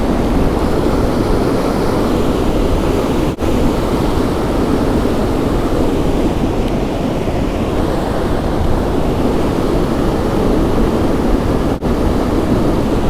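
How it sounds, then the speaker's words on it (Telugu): Loud, constant roar of the Godavari river in flood at Gannavaram, Konaseema, a deep churning rumble with wind buffeting the microphone, unbroken for the whole stretch. "మరీ విపరీతంగా ఉందండి ఇక్కడ వరద ప్రవాహం"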